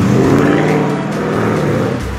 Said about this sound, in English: Ford Mustang black.